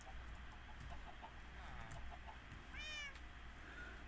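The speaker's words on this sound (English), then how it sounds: "Was it a cat? It was a cat." Two cats meowing in the video game Minecraft, a couple of short, fairly faint mews over steady game background sound.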